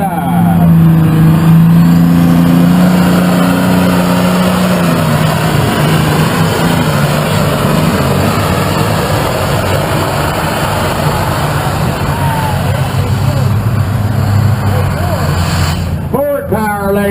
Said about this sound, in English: the Ford Power tractor out of Nebo